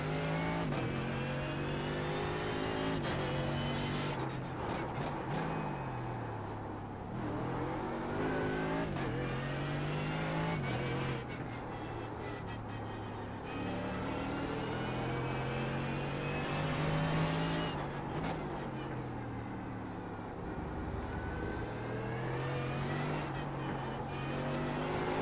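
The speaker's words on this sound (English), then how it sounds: "Take care, there's a car approaching." Mercedes-AMG GT3 race car engine in the iRacing sim at the Nürburgring, revving loudly and steadily throughout, its pitch rising and falling through gear changes as another car closes in.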